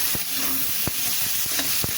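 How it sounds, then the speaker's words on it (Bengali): Onion and garlic sizzle steadily in oil in a pan, with occasional scraping knocks of a spoon stirring. "পেঁয়াজটা রসুনটা একটু ভালো করে ভাজা ভাজা করে নিই"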